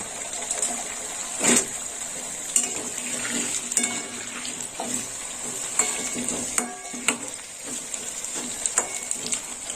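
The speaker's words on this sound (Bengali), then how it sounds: "আলুটা একটু লাল লাল করে ভেজে নেব।" Potato pieces fry in oil in a pan for a prawn and pointed gourd dish, a quiet steady sizzle broken by occasional metallic stirs and scrapes.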